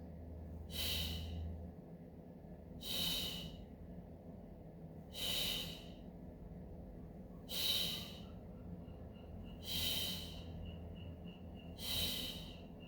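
Breathing during Pilates double leg lifts on the left side: six strong, evenly spaced exhales about every two seconds, close and clear with soft room tone between.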